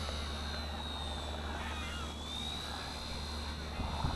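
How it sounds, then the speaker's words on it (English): A small WLtoys V931 RC helicopter whines steadily at a distance as it flies quickly, its rotor and motor tone shifting slightly in pitch as it moves. "this helicopter is actually quite fast, especially considering its size"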